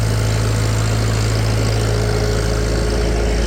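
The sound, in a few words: Farmall Super C tractor engine running on a dyno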